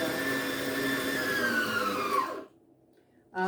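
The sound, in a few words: electric mixer beating thick ganache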